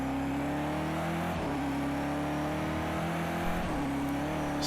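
A race car in Project CARS 2 drones on at the Nürburgring Nordschleife, its engine note holding steady and then dipping sharply twice as it downshifts into second gear for the Carousel, with no talk.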